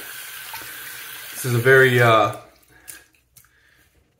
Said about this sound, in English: I'm going to run some water really quick.